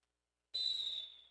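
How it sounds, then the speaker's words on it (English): A single sustained official's whistle blast from the jam referee or jam timer signals the end of a roller derby game, sounding clear and steady before slowly fading. "We are waiting on the official whistle from our jam ref,"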